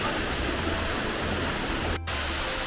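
A slanted waterfall on the Predelnica stream near Log pod Mangartom roars steadily and loudly close by, a dense unbroken rush of falling water with no voices.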